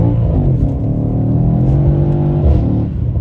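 A Mercedes E63S AMG engine drones loud and close while sliding, holding a steady revving tone that dips briefly around a gear shift before climbing again.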